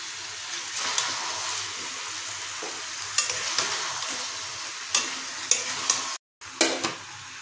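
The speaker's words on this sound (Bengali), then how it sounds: "তাই খুন্তিতে ভালো করে কষিয়ে নেব" Chicken with potato, papaya and carrot is stir-fried in a wok with a spatula: a steady sizzle broken by repeated scraping strokes and a brief silent gap near the end, with no talk.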